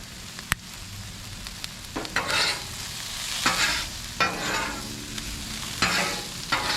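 Asparagus seasoned with kosher salt, pepper and garlic is tossed in a hot pan, soft sizzling broken by repeated scraping stir bursts and a sharp clank, close and fairly quiet, no voices.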